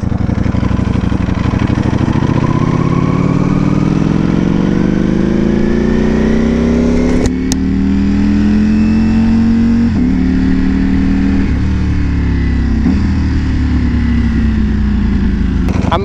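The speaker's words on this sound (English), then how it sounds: "It is a full carbon fiber Ducati V4 2018, but the guy has the upgraded fairings of the brand new 2020 V4." A full carbon fiber 2018 Ducati V4 motorcycle with upgraded 2020 fairings revs loudly and close up, its engine pitch climbing steadily, dipping briefly, then rising again through several throttle blips with no talk.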